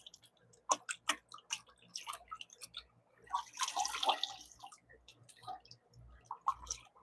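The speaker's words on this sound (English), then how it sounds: "Rinsing off my macroalgae, has old food on it, gotta get that off" Macroalgae with old food on it is rinsed by hand under running water, giving irregular close splashes, drips and squelching handling noises with a longer gush of water in the middle.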